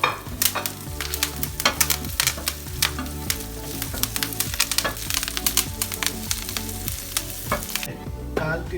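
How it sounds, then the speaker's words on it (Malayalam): Green chillies and curry leaves fry in a pan with a loud, continuous crackling sizzle, dense with sharp pops and spatters, close up and without any talk. "അടുത്ത് നമ്മൾ പച്ചമുളകും കരിവേപ്പിലയും ഇടുകയാണ്."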